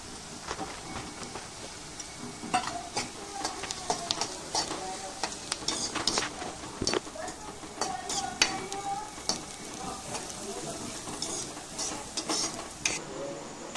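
Shredded cabbage and onion frying in a pan for Manchurian, a steady sizzle with scraping stirring strokes and occasional clinks of a utensil against the pan, close and moderately loud with no talk.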